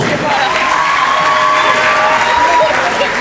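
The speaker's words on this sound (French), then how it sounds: "Sous vos applaudissements." A festival finale audience claps and cheers together, with dense, loud applause mixed with scattered shouts and whistles, and a voice briefly audible within the crowd noise.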